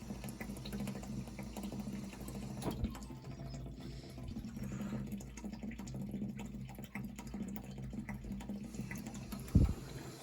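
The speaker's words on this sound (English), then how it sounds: "the pressure reducing valve is making up water, making up the pressure that's being lost" Water flows through heating pipes as a pressure reducing valve makes up lost pressure, producing a low continuous hum and faint trickling with a few light knocks.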